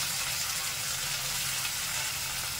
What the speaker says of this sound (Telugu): కొంచెం కొత్తిమీర వేసి వేయించాను నూనెలోనే.